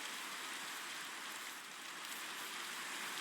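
Rain falling in Minecraft, a steady dense hiss of drops that stays even and unbroken, faint and with no voices.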